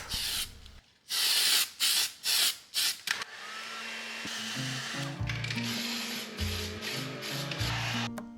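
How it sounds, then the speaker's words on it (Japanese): A can of spray is applied in several short, loud hissing bursts to adjust the sheen on a repaired wooden stair riser, then gives way to a steady mechanical whir with a rhythmic, tonal pulsing. "スプレーを当ててツヤを調整していきます"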